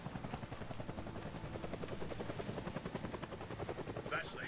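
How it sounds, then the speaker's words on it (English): Helicopter in the video game Deadlight flying overhead, a steady loud rotor chop with a pulsing beat throughout, close and continuous, with a faint higher sound near the end. "That's the helicopter chasing my friends."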